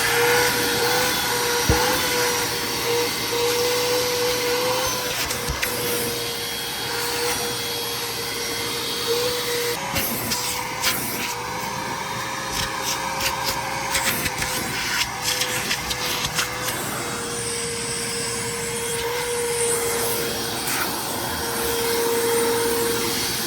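A shop vacuum fitted with a new filter runs steadily, a loud, constant roaring drone with a sustained whine that shifts pitch slightly, close up with occasional knocks and rattles as it picks up debris.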